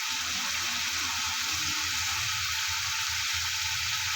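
Masala spices cooking down in a pan with a splash of water added, a loud, dense, continuous sizzle and hiss holding steady throughout with no voices.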